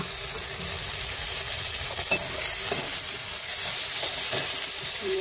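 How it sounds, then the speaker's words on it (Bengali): Cumin seeds sizzle and crackle in hot oil in a pan while a spoon stirs them with steady scraping, part of cooking a potato and chana dal dish. The frying hiss is close and continuous, with no one speaking. "সাদা জিরে দিলাম, নাড়াচাড়া দিলাম। তখন এটা ভাজা ভাজা হয়ে যাবে।"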